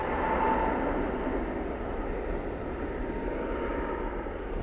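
An EasyJet airliner departing, its engines a broad, steady roar that holds at an even level throughout, heard from a distance with no voices.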